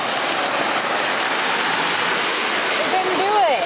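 A golf cart on a nature trail pushing through water, producing a loud continuous rushing splash that fills the scene, with a brief voice near the end.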